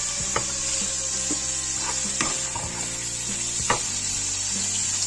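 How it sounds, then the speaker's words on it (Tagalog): Chopped onion frying with browned garlic in a pan, a steady close sizzle running throughout with a few soft knocks from stirring. "So let's wait until the onion is also cooked before we will mix again our chicken"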